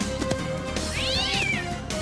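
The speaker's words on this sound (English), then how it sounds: "Did they just use the same cat screech twice?" A cartoon cat screech sound effect from a Saturday morning animated show: a single loud, rising-then-falling yowl lasting about a second, heard close and alone over a dense soundtrack background.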